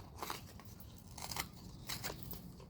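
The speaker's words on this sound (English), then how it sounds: "So we're going to get the bottom of this one here cut out." Scissors cutting the bottom out of a cup, heard up close as a few faint, crisp snips and crunches in a quiet outdoor setting, with no voices.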